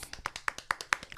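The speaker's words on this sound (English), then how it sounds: "God, let's clap for it." Several people clap in a loose, uneven burst, about eight sharp claps over a second, moderately close and fairly faint, during a morning show.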